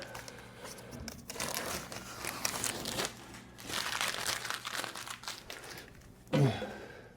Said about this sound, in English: Let me take the tape off.